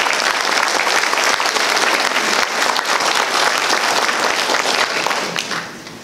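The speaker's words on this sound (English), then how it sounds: "Please give our employees a round of applause for all their hard work." Crowd at a 2019 electric cooperative annual meeting giving employees a round of applause: steady, dense clapping from many hands throughout, easing slightly at the end.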